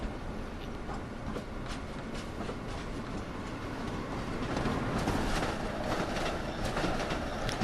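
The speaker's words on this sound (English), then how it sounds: "There's a train coming and it stops." A train rolls past with a steady rumble and rail clatter, close and continuous, growing slightly louder toward the end.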